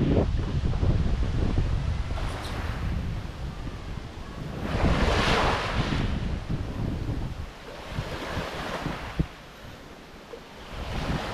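Strong ocean waves roll onto the shore in heavy surges, their rush rising and falling beneath constant gusty wind that buffets the microphone, with no voices present.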